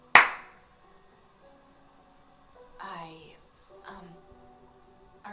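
A single sharp hand clap for sync opens the scene, loud and close, during a let's-play session of The Wolf Among Us, followed by people talking quietly.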